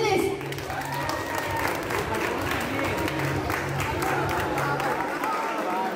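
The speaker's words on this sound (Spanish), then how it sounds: "un aplauso para ustedes" Audience applause at a Vocaloid/UTAU presentation, a steady wash of clapping from a crowd mixed with a low rumble and chatter, running continuously at fairly loud level throughout.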